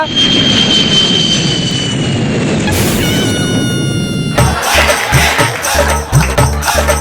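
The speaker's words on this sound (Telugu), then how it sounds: "పైనుంచి ఫ్లైట్ వెళ్తుందిగా" A jet aircraft roars steadily overhead, loud and continuous, with a heavy low rumble building toward the end.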